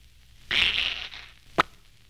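A voice imitates a question mark with a hissing, raspy burst lasting about half a second, followed by a single sharp pop, set against near silence.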